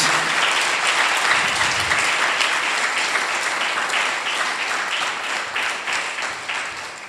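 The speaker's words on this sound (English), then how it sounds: "Big applause to all the volunteers" Steady, full applause from an audience at a spiritual retreat, honoring the volunteers; a dense wash of clapping that continues evenly and tapers slightly toward the end.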